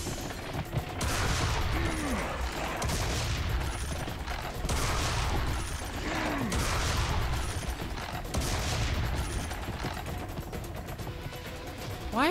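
Repeated heavy shotgun blasts from Serious Sam 3: BFE, roughly a dozen loud booms at a steady pace of about one per second, over constant dense game noise and clattering mechanisms.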